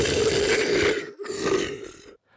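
Raspy, guttural creature voice sound effect left unprocessed, one long growling rasp followed by a shorter second growl, loud and close, then cut to silence.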